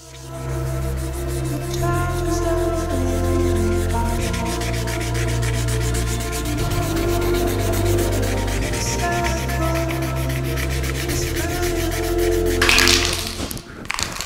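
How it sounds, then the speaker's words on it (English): A bike frame tube is rubbed smooth before spray painting, making a steady, continuous abrasive scraping that runs for the whole stretch, close and fairly loud, with no talking. "And then rub the tube"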